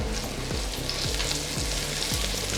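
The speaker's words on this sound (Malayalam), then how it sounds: "നമുക്ക് നന്നായി ഒന്ന് മിക്സാക്കി കൊടുക്കാം." Garlic, green chili and chili flakes sizzle in a pan with steady frying hiss as they are stirred, close and continuous, with rhythmic scraping strokes.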